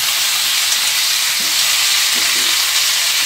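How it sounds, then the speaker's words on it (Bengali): Boiled taro stolons stir-fried in oil with turmeric and salt in a pan, a loud continuous sizzle and hiss held steadily throughout, with no talking. "এবার পাঁচ থেকে ছ মিনিট এরমভাবে হালকা হাতে নেড়ে নেড়ে লতিটাকে ভেজে নিতে হবে"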